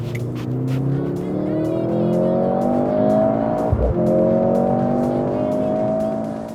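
Mercedes-Benz C63 AMG with a 2-litre turbocharged four-cylinder under hard driving, engine note rising and falling through gear changes with a brief tyre squeal, loud and close, with no talk.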